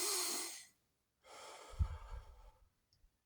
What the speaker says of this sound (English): breathe in through your nose, breathe out through your mouth